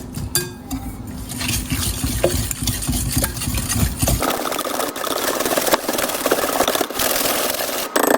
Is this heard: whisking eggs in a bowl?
yes